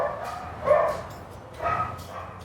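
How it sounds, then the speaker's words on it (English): Dogs bark upstairs in a house, two muffled, somewhat distant bursts of barking about a second apart against a steady indoor hum. "Those are my dogs up there barking, making it impossible to record right now."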